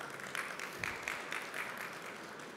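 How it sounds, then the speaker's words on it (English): An audience at a Forex Expo 2021 talk in Dubai applauding, a soft, distant wash of steady clapping with faint pulses and no voices. "can we have a round of applause for them?"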